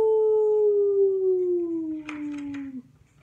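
A voice imitates a wolf howling at the moon, told during a children's story time: one long, steady howl sliding slowly downward in pitch for nearly three seconds, close and clear, ending with a couple of faint soft taps.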